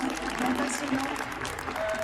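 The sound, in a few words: audience applauding the speakers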